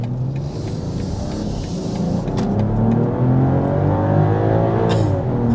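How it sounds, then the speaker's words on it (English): A 2025 BMW X7 SUV in sport mode accelerates hard, its engine note climbing steadily and growing louder from inside the cabin, with no talk. "for a sport mode acceleration"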